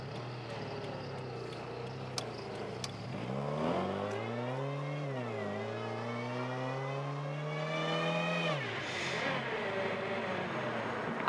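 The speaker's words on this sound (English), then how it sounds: "You can listen to that blow-off valve and that supercharger whine." A twin-supercharged FRS revs, its supercharger whine climbing and falling in pitch with the engine, close and steady, then a blow-off valve releases with a short airy hiss near the end; no talking.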